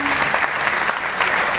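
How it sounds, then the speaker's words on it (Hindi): Loud applause from a seminar audience for a presenter called Kundan sir; a brief burst of dense, energetic clapping at full strength throughout. "चलिए कुंदन सर के लिए जोरदार तालियां"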